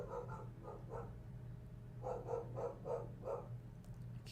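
A dog barks several times in short bursts, faint and muffled in the distance over a steady low background hum.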